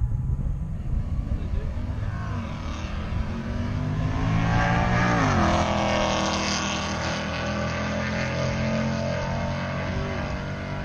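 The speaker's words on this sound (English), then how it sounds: "Real good burnout." A Corvette with an LS3 engine does a burnout at a drag race: a loud, sustained V8 roar that climbs and sweeps in pitch as the revs rise, held steady for the whole stretch.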